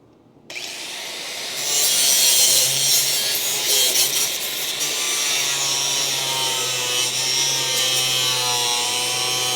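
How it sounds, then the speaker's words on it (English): A cutting tool grinding steadily through Bondo body filler on a Dodge Charger under restoration, a harsh continuous rasping whine starting abruptly and holding loud and close for several seconds, no talk. "See how easily I'm cutting through that? That's not metal. It's Bondo."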